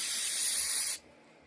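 A steady close spray of liquid hissing onto a metal casting to rinse off Lysol Lime and Rust Remover, a bright continuous hiss that cuts off abruptly after about a second.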